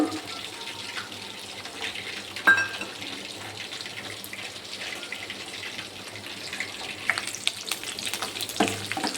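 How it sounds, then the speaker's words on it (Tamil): Green chilli and garlic frying in hot ghee, a steady sizzle with sporadic crackles and a sharp clatter early on, growing busier toward the end, close and without talk. "கேஸ் ஆன் பண்ணி கீ ஊற்றி வச்சுருக்கேன். பச்சை மிளகாவும் பூண்டும் போட்டுக்கலாம்."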